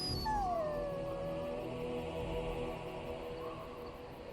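A dog howls in the Dragon Age Origins video game, one long falling wail followed by softer whimpering tones over quiet ambience.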